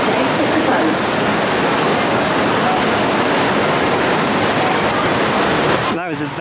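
Water roaring around a boat on the River Rapids ride at Drayton Manor, a loud steady rushing wash that fills the whole stretch before cutting off sharply near the end.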